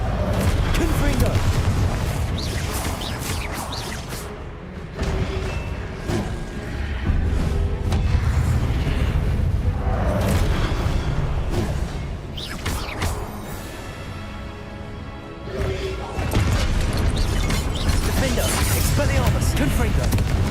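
Repeated Confringo spell explosions in Hogwarts Legacy, booming blasts and thuds recurring every few seconds through a loud, busy battle, with voices speaking over the action.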